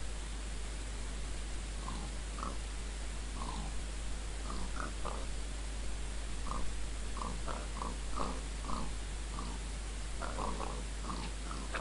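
Pigs in the Minecraft video game oinking in short scattered grunts, fairly faint over a constant low hum, with no talk.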